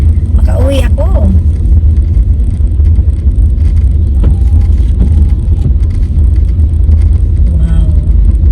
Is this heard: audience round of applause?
no